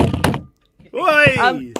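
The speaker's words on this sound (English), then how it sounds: "Knocked in my microphone." Hands bumping a microphone make a dull close thunk and knock, a short burst of handling noise, then a pause before a voice talks.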